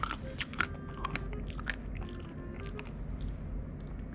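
Close, crisp bites crack through the crunchy chocolate coating of a Magnum ice cream cup, followed by soft chewing and crunching. Several sharp snaps come in quick succession, with no talking.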